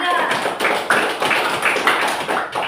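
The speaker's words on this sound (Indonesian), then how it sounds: "berikan aplaus dulu untuk kelompok 3" Students in a classroom applaud group 3, a dense burst of many hands clapping at close range that carries on steadily throughout.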